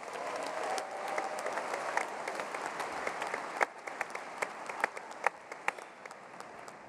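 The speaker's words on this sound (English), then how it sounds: "How about a big round of applause for them?" Sustained audience applause fills a commencement ceremony hall, a dense steady wash of many hands clapping, with a few sharper individual claps standing out near the end.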